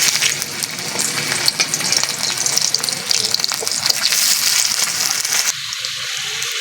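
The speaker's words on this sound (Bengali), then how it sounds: "তেল ভালো করে গরম হয়ে গেছে এবার আলুগুলো দিয়ে দেবো" Winter potatoes drop into hot white oil in a wok and fry with a loud, steady sizzle and crackle, which thins out and quiets near the end.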